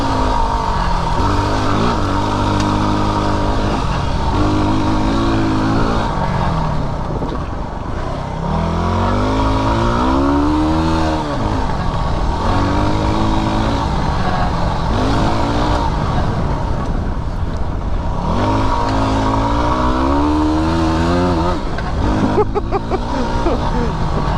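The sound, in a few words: Yamaha WR250R motorcycle engine while riding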